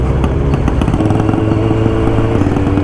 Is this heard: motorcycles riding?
yes